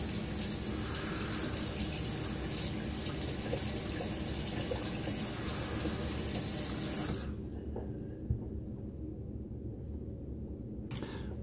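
A shaving razor rinsed under a running tap, a loud steady gush of water into a sink that abruptly thins to a quieter trickle partway through.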